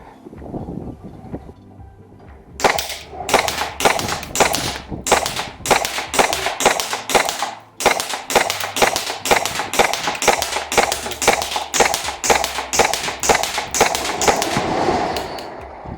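Army Armament R18 airsoft rifle firing on full auto, long rapid strings of sharp cracking shots in close succession, loud and near, with a brief pause between bursts.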